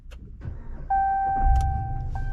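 A 2022 Ram 1500 Limited pickup starts up: a cabin chime sounds, then a low engine rumble builds and settles to a steady idle after some small clicks inside the truck.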